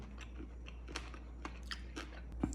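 Crunchy coffee chocolate is chewed close up, a quiet series of small crisp crunches and bites scattered irregularly over a low background hum.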